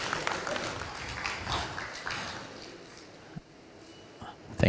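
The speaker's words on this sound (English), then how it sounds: "A round of applause, please." An audience applauds at an investment conference panel between Uganda and Tanzania, a fairly faint, steady patter of clapping that gradually thins out, with a couple of sharper knocks near the end.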